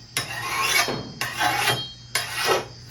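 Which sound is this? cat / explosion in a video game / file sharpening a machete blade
file sharpening a machete blade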